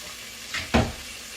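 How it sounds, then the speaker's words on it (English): Water is poured into a hot pan holding a seared chuck pot roast, giving a short clink followed by a brief burst of sizzling that fades quickly into quiet. "But before I do that, let me put a little bit of water in it."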